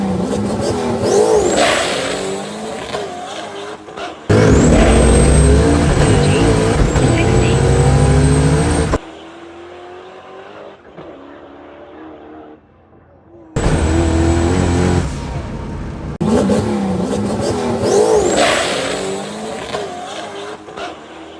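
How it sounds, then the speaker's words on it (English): A boosted drag race car on a drag strip roars loudly during launches, with hard revving bursts and tire noise, alternating with quieter stretches of distant engine sound and crowd ambience. "It's boost season, and we're about to make a pass."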